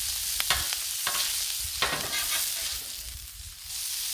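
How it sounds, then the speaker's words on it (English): Bacon ends and pieces frying on a Blackstone griddle, giving a steady, close sizzle with a few sharper crackles and scraping stirs, no voices. "We're frying bacon pieces."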